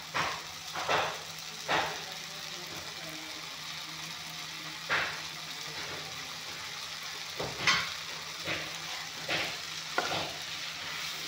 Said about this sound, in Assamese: মাছৰুমখিনি বিলাহীৰ লগত একেলগে অলপমান টাইম ভাজি ল'ম